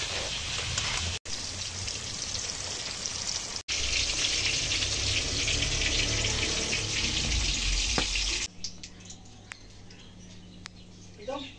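Ridge gourd pieces drop into hot oil in a frying pan after potatoes, giving a steady loud sizzle that cuts off abruptly and leaves a quieter crackle with faint clinks.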